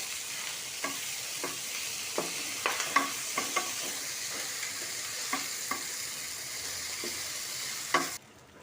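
Two kinds of noodles stir-frying in a pan: a steady sizzle runs throughout, broken by scraping stirs at a regular pace, close up and without any talking.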